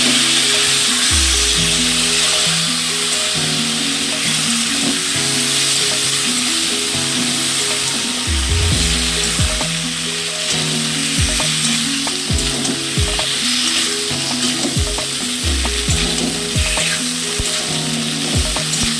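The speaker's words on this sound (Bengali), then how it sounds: "এগুলো একটু ভাজা ভাজা হয়ে গেলে এর মধ্যে যে আদা আর মৌরি বেটে রেখেছিলাম সেটা দিয়ে দেবো।" Vegetables for sukto frying loudly in a pan with ground ginger and fennel paste, a dense, close sizzle that stays steady throughout, broken by repeated scraping and clanking stirring strokes.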